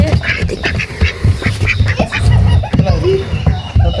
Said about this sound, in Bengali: হাঁস দুইটা